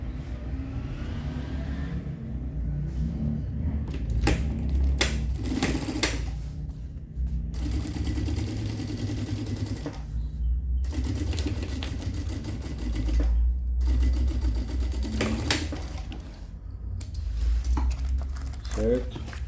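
Sewing machine topstitching the crown piece of a backpack, running in steady bursts of stitching with brief pauses between passes, close and fairly loud.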